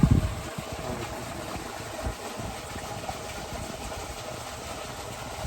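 A tractor with a rotavator attached idles steadily in a field, a continuous low mechanical rumble with a slightly louder start, heard alone without talk.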